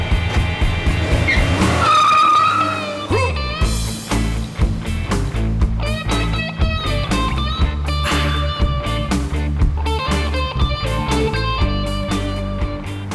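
A car pulls away with its tires squealing, a loud continuous screech and engine roar lasting throughout, with no talking.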